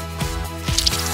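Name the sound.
decorated cake being cut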